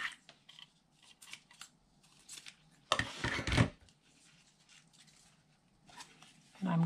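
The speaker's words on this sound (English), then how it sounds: "I'll take my ribbon and cut off a piece." Scissors snip a length of ribbon during paper crafting of a gable Valentine's box, giving one loud, close cutting crunch in the middle, surrounded by soft handling rustles.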